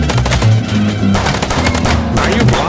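Rapid bursts of gunfire from the Chicken Police video game, loud and continuous with dense automatic-style shots running throughout.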